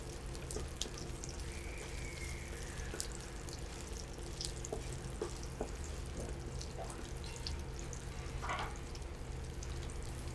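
Whole garlic cloves fry in oil for a Chinese chicken curry, giving a steady low sizzle throughout with faint scattered crackles and a few small clinks, moderately quiet and without speech.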